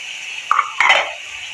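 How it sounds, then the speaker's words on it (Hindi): Two short metallic scrapes of a utensil against a karahi while chopped onions and tomatoes are stirred, close and fairly loud over quiet background. "और इनको हम अच्छी तरह से हिलाएंगे, मिक्स करते जाएंगे।"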